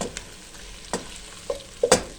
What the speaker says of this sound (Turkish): Şimdi biraz kavrulsun arkadaşlar